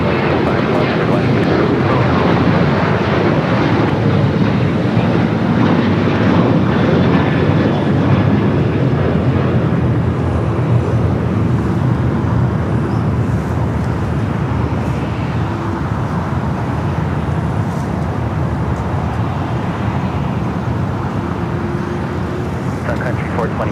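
An airliner departing from runway 25 Left at Los Angeles International Airport gives a steady, broad jet engine roar that fills the whole stretch at a constant level, with tower radio talk over it.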